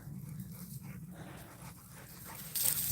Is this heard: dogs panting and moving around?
yes